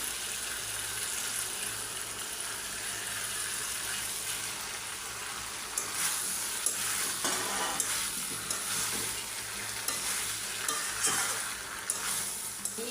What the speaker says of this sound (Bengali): এক মিনিট আরও মশলার মধ্যে ভালো করে ভাজা ভাজা করে নিলাম